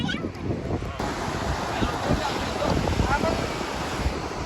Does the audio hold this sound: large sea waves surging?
yes